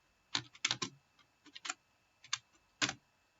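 Keys tapped on a computer keyboard while code is entered for a Visual Basic loop, a few short bursts of clicks separated by pauses, quiet and close with no talking.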